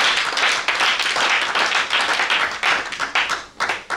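A church congregation claps steadily and loudly during a Sunday live service, a dense continuous roar of hands that fills the room with only slight dips toward the end.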